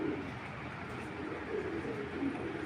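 Black-necked high flyer pigeons coo softly and repeatedly in a low, murmuring rhythm, fairly quiet and close, over steady background noise.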